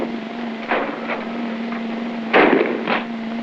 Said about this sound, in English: That means there's firing going on.